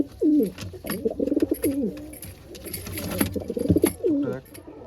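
A Madrasi pigeon held in the hand gives repeated, close, throaty coos in bursts, with short pauses between the rolling phrases.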